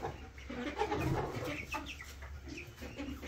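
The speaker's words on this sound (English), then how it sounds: "the egg chickens are all up here" Several egg-laying chickens cluck and murmur nearby in short, irregular bursts in a barn, fairly quiet with soft farmyard background.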